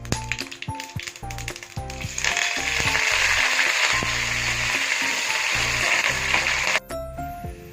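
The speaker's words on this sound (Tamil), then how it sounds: "கடுகு பொரிஞ்சோடனே வெங்காயம், பூண்டு, கருவேப்பிலை போட்டு தாளிச்சிக்கலாம்." Onion, garlic and curry leaves hit hot oil for a sambar tempering, starting with sharp clinks and pops before a loud, steady sizzle takes over and holds close and continuous.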